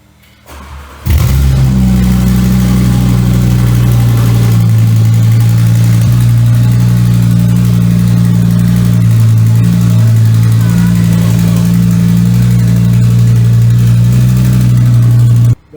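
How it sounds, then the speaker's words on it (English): An Audi RS3 engine with no exhaust starts up and runs loud and raw with a deep droning rumble, revving slightly at times, very close and continuous. "currently the car has no exhaust"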